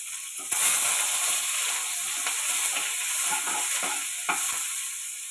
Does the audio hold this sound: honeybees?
no